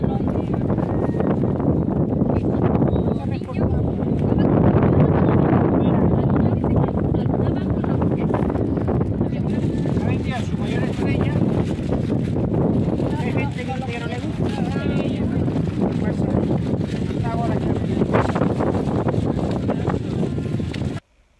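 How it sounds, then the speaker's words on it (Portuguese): Strong wind at the beach roars steadily into the microphone for the whole stretch, with a constant, blustery rumble and no clear breaks. "Tá um pouquinho de vento, né?"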